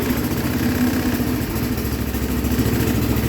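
A Kohler K341 single-cylinder engine on a 1979 John Deere 216 lawn tractor with a carbon buildup problem runs steadily and close, a continuous rough idle-like drone throughout.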